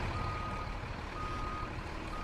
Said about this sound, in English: I had to look up the truck backing up sound on YouTube with my BrailleSense 6